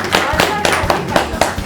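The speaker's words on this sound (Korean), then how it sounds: "네, 왔습니다. 박수!" Several pairs of hands clap in quick, uneven bursts at a Gyeongnam provincial council research group's quiz introduction, a short close round of applause with faint voices mixed in.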